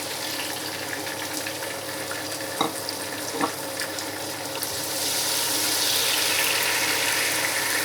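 Chopped tomatoes go into a hot pan of moong dal khichdi base and fry with a steady, close sizzle, a couple of sharp clinks from stirring near the middle, and the hiss swelling louder toward the end.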